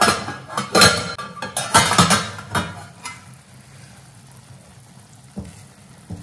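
A metal lid lifted off a kadai of Chettinad ukkarai sweet, giving a few sharp clanks and scrapes in the first three seconds, then a quieter stretch with one more soft knock near the end.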